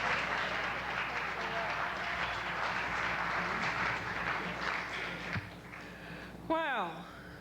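An audience giving a warm round of applause at an evening reading event, dense steady clapping that fills most of the stretch before fading, followed by a brief voice.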